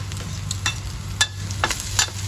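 Garlic sautés alongside meat in a hot pan, a close, steady sizzle broken by several sharp scrapes and stirring clatters of a utensil against the pan.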